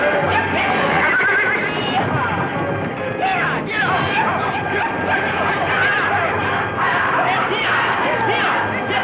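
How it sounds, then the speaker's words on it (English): Horses in a barn neigh and whinny loudly and repeatedly over a dense, steady background of stamping and commotion. "Them horses may start sounding off again"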